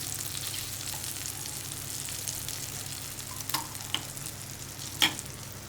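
Onion paste frying and being stirred into a tamarind pulikuzhambu: a steady soft sizzle runs throughout, with a few faint clicks of a spoon against the pan near the end.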